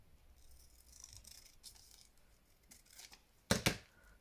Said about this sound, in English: we're going to trim it off like that